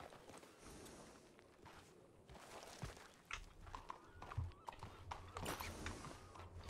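Horse hooves clip-clop at a walking pace in the Wild West roleplay game RedM, an uneven series of soft steps close by over a low background bed, with no talk.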